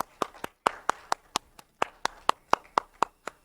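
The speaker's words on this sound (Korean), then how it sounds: "박수 한번 해주세요." A church congregation at a Christmas thanksgiving service claps in a quick rhythmic burst, crisp distinct hand claps in two short runs with a brief pause between, close and clear in the sanctuary.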